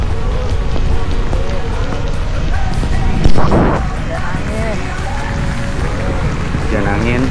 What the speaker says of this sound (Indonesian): Hujan angin.